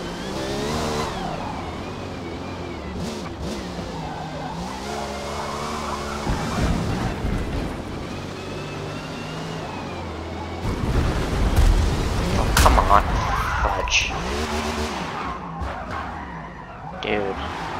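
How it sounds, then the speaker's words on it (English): A race car engine in a racing video game revs and shifts steadily while tires squeal and skid, with a person talking over the driving throughout. "I am literally feathering the throttle right now."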